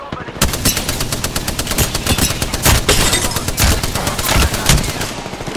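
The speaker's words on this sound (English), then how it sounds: "They're shooting at me." Dense automatic gunfire in an Apex Legends Arenas match, loud rapid bursts hammering steadily for several seconds with a voice faintly underneath.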